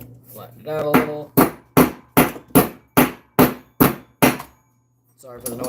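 Close, sharp hammer blows on metal, about nine evenly spaced strikes, flattening a nail for making trap pogos, with a voice talking briefly before and after.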